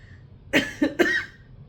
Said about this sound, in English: I have this constant cough